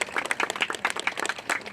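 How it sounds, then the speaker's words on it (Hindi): Sustained clapping from gathered guests at an ashram ground-breaking puja in the USA: a brisk, fairly loud patter of many hands that keeps going without a break. "हम सभी तालियां लगातार बनाए रखेंगे।"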